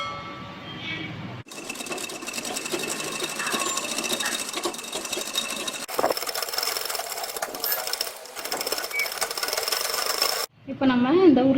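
A sewing machine stitching a blouse neck patch runs in a steady continuous whir for most of the stretch, stopping briefly partway through, with quieter handling noise at the start and end.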